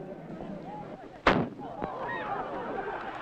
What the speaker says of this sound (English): The signal for battle comes appropriately from the firing of an ancient cannon